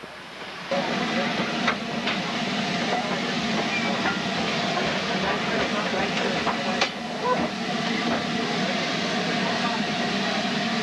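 A cog railway train preparing to climb a hill in New England gives a steady, close hissing rumble with faint intermittent clicks, running unbroken for the whole stretch.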